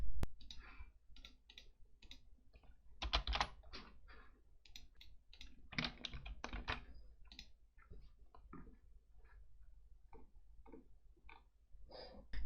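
Faint, close clicking and tapping from a computer mouse and keyboard comes in irregular bursts throughout, with short gaps between clicks. No one speaks.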